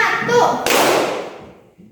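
A single sharp hand clap from a classroom clapping game cuts in after a voice, close and brief, fading quickly into quiet.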